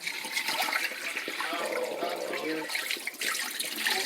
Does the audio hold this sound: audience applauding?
no